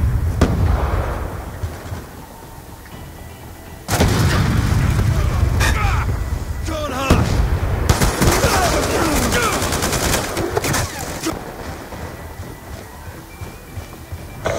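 Black Ops II game gunfire in dense bursts of rapid automatic shots and blasts, with a quieter stretch early on and then heavy continuous firing, while game voices shout over it.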